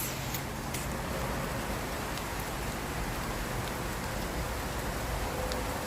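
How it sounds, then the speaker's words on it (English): Heavy rain falls outdoors in a garden, a dense constant hiss of drops hitting surfaces, even and close throughout with no voices. "I'm gonna go in because the rain's getting heavier"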